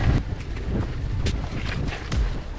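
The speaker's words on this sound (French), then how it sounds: "Plein été mais il y a du vent à mort, on n'avance pas." Strong wind gusts buffet the microphone while mountain biking on an Orbea Oiz H30 in muddy, greasy summer conditions, a loud low rumble with sharp bursts and no talk.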